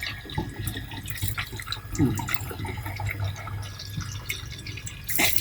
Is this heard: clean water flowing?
yes